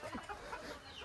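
Chickens at a Konkan farmhouse give soft, scattered clucks close by in a brief burst with no talking.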